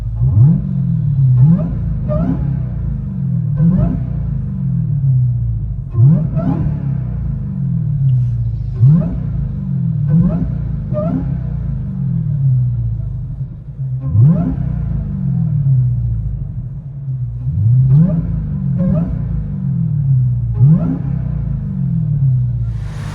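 Supercharger whine from a 2023 Dodge Charger Hellcat with a supercharged 6.2L HEMI V8 and CARVEN R-Series mufflers, heard from inside the car as rising, whistling sweeps over a heavy engine rumble during repeated revs.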